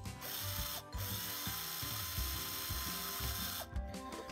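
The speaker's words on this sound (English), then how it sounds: "What I like to do when I'm using the actual tap bit is go a little bit deeper" Metallic clicking and grinding of a hand tap turning into a diecast toy car post, in short uneven bursts with brief pauses, close and fairly quiet.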